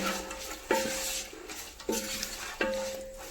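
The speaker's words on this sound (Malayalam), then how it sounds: "കുറച്ച് തൈര് ഒഴിച്ച് കൊടുത്തേക്കണ് തക്കാളി ഇട്ടു കേട്ടോ" Curd and tomatoes go into a biryani pot in a home kitchen, with a spoon scraping and clanking against the metal pot in a few distinct strokes amid a low sizzle.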